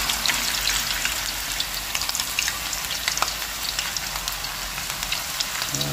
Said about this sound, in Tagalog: Prituin din po natin yung ating tilapia.